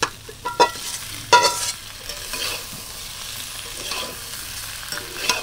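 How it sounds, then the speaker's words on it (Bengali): Fried eggplant pieces stirred into sizzling spices and oil for a vegetarian eggplant and potato dish, with loud scraping stirs and clatters over a continuous close fry, no voices. "এবার আমি দিয়ে দেবো ভেজে রাখা বেগুনগুলো"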